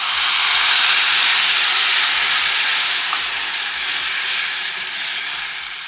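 Jerk seasoning sizzles hard in a hot pan as its liquid cooks off for a Jamaican jerk sauce, a loud, steady, hissing steam that fades slightly toward the end, with no talking.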